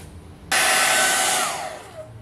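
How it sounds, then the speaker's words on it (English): Hair dryer switched on abruptly to speed dry a watercolor painting, blowing a loud, steady whoosh for about a second before its pitch slides downward as it winds off. "And I'll speed dry this now."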